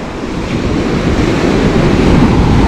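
Loud ocean waves surge up the shore at Cabo, a dense, continuous roar of surf mixed with wind buffeting the microphone, close and building slightly over the few seconds.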